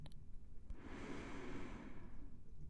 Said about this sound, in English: A deep breath in.